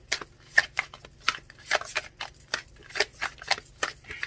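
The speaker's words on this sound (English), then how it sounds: "It's hard to shuffle it." A stiff oracle card deck being shuffled in short, uneven riffles and snaps, a quick run of dry papery flicks close to the mic with a faint low hum beneath.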